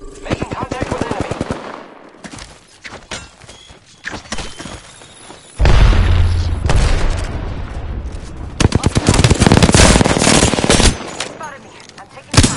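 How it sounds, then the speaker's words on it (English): Gunfire in the Apex Legends battle royale game: rapid automatic bursts and single shots crack up close, with heavy sustained volleys and booming impacts in the middle, while a voice speaks over parts of it. "I'm taking fire, friends."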